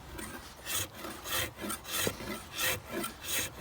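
An Origin Bushcrafter axe strips bark and small knots from a felled tree in a steady series of close, rasping scrapes with no speech.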